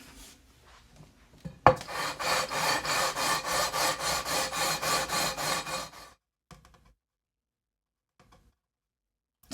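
Frets on a Gibson Les Paul Studio guitar being leveled, with a close, loud, rhythmic rasping of about a dozen even back-and-forth strokes over four seconds, then silence with a few faint taps.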